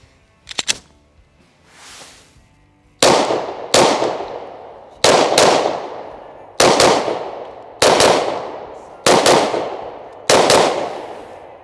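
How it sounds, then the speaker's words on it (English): Palmetto State Armory Dagger pistol firing outdoors, an early pair of sharp cracks followed by six loud, evenly spaced shots with short echoing tails, close and clear. "First shots downrange, the PSA Dagger."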